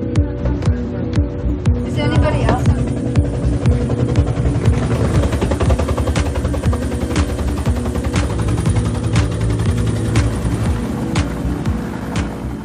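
A Maltese army helicopter on a medical evacuation thuds with a steady rotor beat and engine drone, loud and close, while a voice talks over it.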